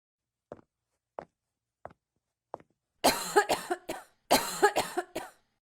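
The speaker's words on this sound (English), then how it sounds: "I can't stop coughing." Four small, evenly spaced coughs, then two loud fits of harsh, rapid coughing close to the listener.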